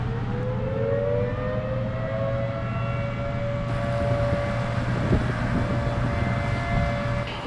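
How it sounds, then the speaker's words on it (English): A long, steady wail from an air warning siren at a hydroelectric generating station dam rises slightly in pitch and carries across open air, continuous and fairly loud over a low rumbling hum. "At the dam, or the hydroelectric generating station, an air warning siren goes off."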